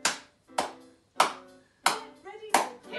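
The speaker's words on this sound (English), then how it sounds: "So, starts with clapping your hands, okay?" Five sharp hand claps spaced roughly half a second apart, each loud and close with a quick decay, keeping time at a children's rhymetime music session.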